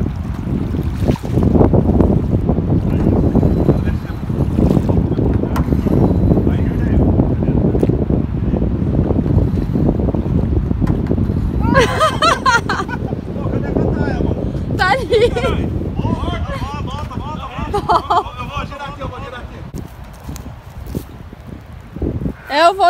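A motorboat engine runs on the water off Ilha Comprida in Brazil, a steady low rumble for the whole stretch, mixed with wind buffeting the microphone and the wash of water, while people talk over it.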